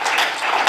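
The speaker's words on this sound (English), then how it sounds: "give ourselves a round of applause" A short burst of audience applause at a media summit, a brief, moderately loud patter of clapping from a conference crowd.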